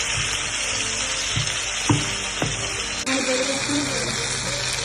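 Large tomatoes fry in a pan for a seela fish curry, giving a steady, close sizzle and bubbling with a few soft stirring knocks against the pan.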